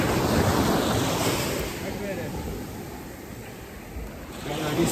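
Ocean surf rolls steadily onto the beach at Flavours beach, Runaway Bay, St Ann, Jamaica, a continuous close wash of breaking waves mixed with wind rumble, swelling slightly at the start and end.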